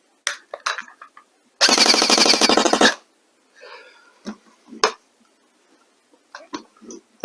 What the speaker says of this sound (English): Let's just find out how it sounds on single shot. And then full automatic.